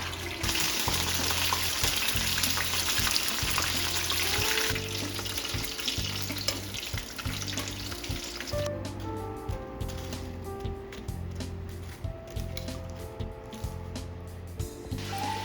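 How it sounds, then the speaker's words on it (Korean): Steady sizzling and crackling of shiitake mushrooms frying in a pan, close and continuous, with some clinking and a faint tonal hum partway through. "표고버섯이 아주 맛있게 익어가고 있어요."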